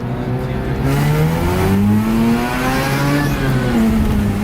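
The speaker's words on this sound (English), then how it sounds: "It wants to rev out more." A Mazda RX8 rotary engine fitted with new NPBoosted ignition coils revs loud and close, its pitch climbing and falling in smooth sweeps throughout.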